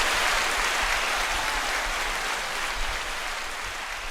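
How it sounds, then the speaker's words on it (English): Round of applause sound effect playing on a loop, a dense, even wash of many hands clapping, steady and fairly loud with no voices over it. "the round of applause now loops"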